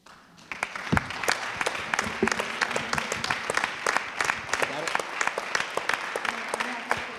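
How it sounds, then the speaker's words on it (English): Round of applause from a town hall audience at a youth violence meeting: crisp, steady clapping with distinct individual claps, while voices talk over it. "Can we give her a round of applause"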